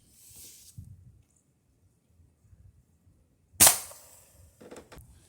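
A .22 caliber pellet gun fires a single red fire ballistic tip pellet into a ballistic gel rabbit, one sharp snapping crack mid-clip after quiet handling noises, followed by a faint thud.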